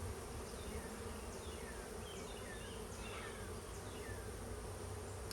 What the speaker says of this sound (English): here comes one bee